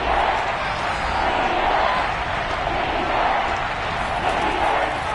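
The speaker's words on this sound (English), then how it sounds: "Crowd getting in it a bit already." An NFL stadium crowd at a Dolphins versus Jets game roars in a sustained, distant wash of cheering that holds steady for several seconds under the broadcast.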